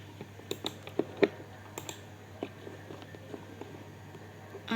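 Computer keyboard typing and mouse clicks while working in SPSS statistics software, sparse irregular taps and clicks close up over a quiet room hum.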